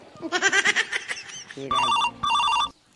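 Chattering vocal sounds give way to two loud electronic telephone rings in quick succession, then silence.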